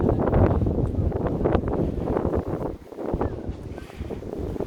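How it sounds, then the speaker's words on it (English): Strong wind on a cruise ship deck at port in Visby, Sweden, on the Baltic Sea buffets the microphone in loud, gusty roars, easing briefly before surging again. "It's so windy."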